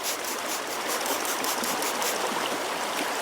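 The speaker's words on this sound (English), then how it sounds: "Been hanging out on the river" River stream flowing on an evening outing, a steady, close rushing and trickling wash of water, constant in level with no voices.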